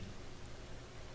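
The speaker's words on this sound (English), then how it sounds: "listening to the sound of the rain" Steady, soft rain falls as an even hiss that never varies over about a second, with no distinct drops and no voices.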